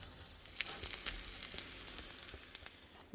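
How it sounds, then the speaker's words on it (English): Crispy tacos frying in a pan on the stove, a soft steady sizzle with small scattered pops and crackles, quiet and close, with no talking. "we're going to let the other side get nice and crispy"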